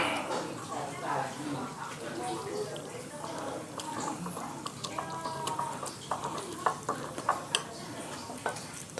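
Flour batter being stirred with water in a bowl, soft wet scraping and sloshing strokes in an irregular rhythm, close and fairly quiet, with a voice talking over it.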